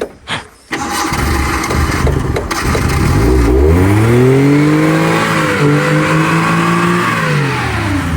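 A car engine starting on a cold morning: a brief cranking sputter, then the engine catches and revs up loudly, rising and falling in pitch before settling into a steady close idle.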